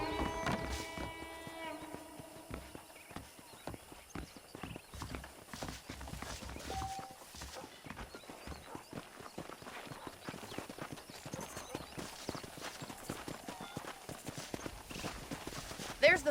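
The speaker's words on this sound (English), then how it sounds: "The horses are saddled up over here." Horses walk with a steady clip-clop of hooves on the ground in Red Dead Redemption, close and continuous for many seconds, with a faint whinny and a voice talking over it.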